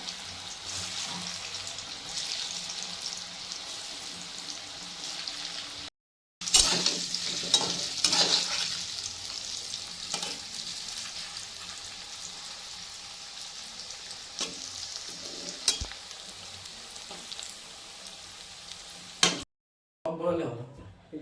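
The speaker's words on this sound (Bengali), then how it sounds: "কড়াইতে আগের থেকেই তেল দিয়ে দিচ্ছি এই যে এখন বসাচ্ছি পুরা স্টিমে এটা ভাজতে হবে" Food sizzles loudly in oil over high heat in a wok, with a steady close frying hiss and occasional stirring clatter, while a voice talks over it.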